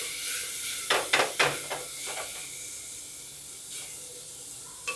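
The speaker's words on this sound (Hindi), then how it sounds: "इसको हम थोड़ा सा भुनेंगे हम इसमें टमाटर डाल देंगे और इसको हम अच्छे से अभी भुनेंगे" Tomato and spice masala roasting in a pan for bottle gourd curry, a steady soft sizzle with a few sharp scraping stirs clustered near the start and occasional stirs later, close and without talk.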